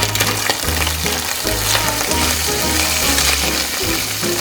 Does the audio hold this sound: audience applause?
no